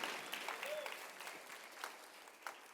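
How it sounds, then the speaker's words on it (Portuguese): Congregation applauding at a Portuguese-language evangelical church service, a dense wash of clapping that stays fairly steady for a few seconds, with a faint voice and some tonal sound under it. "dê para Jesus uma forte salva de palmas"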